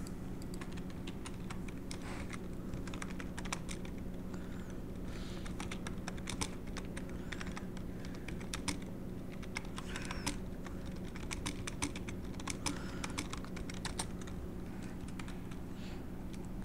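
Quiet, steady typing on a computer keyboard, a run of irregular light key clicks heard close, set against a constant low background hum with no one talking.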